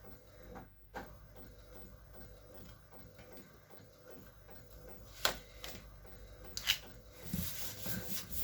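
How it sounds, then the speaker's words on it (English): A printer printing bookmarks in a craft studio runs quietly with a soft, steady mechanical ticking and rubbing, broken by a few sharper clicks and a brief rustle near the end, with no voices. "Hopefully this is nearly done printing."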